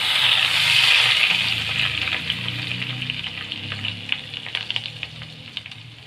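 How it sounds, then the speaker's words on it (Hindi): Cumin seeds and whole red chillies crackle in hot butter for a dhaba-style aloo keema tadka, giving a loud, steady sizzle that eases into scattered popping crackles. "इन दोनों स्पाइसेस को, ड्राई स्पाइसेस को आप इसमें क्रैकल कर लेंगे।"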